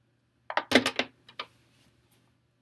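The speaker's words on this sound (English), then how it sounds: "let's cut this in half." A thrown clay bowl, its thick bottom firmed to leather hard, is sliced in half: a short cluster of close scraping, cutting and thudding sounds, followed by a few faint clicks and near silence.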